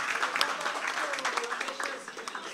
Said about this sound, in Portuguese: Salva de palmas, minha gente